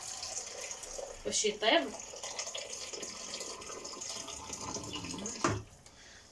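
Water is poured into a cooking pot of lamb head stewing with chickpeas, raisins and onion, giving short splashy bursts near the start and again near the end, with someone talking over the kitchen background.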